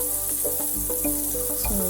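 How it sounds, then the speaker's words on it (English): Goat brain pieces shallow fry in oil, giving a steady close sizzle and crackle with faint stirring clicks and a few small pops, no voices. "We need to fry this, not like deep fry. It's a kind of shallow fry."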